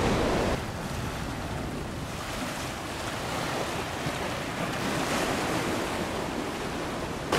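Sea waves rolling in on a beach at Nha Trang, a constant loud roar of surf with heavy wind buffeting the microphone and no voices.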